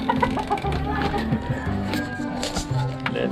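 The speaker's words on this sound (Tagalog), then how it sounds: "Uy! May manok!" A chicken clucks in short, repeated bursts on a city street, fairly close, mixed with passing background noise and people talking.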